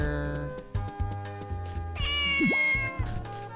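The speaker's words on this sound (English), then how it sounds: "It's a cat." A cat meows in Harvest Moon: Magical Melody, a single rising and falling cry heard over bouncy in-game music.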